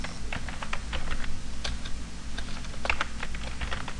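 Keys tapped on a computer keyboard while a name is entered into a spreadsheet, a quick run of close, crisp clicks over a low steady hum, with no talking.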